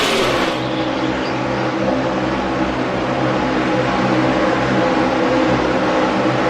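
NASCAR stock cars racing lap after lap at Dover in the 2012 FedEx 400: a steady, loud, continuous engine roar with a broad rumbling drone that persists throughout, no voices.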